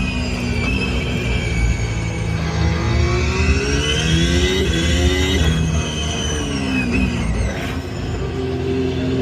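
A Ferrari engine pulls hard through acceleration while driving, a loud continuous roar with rising and falling pitch sweeps as it revs, close and steady throughout with no talking.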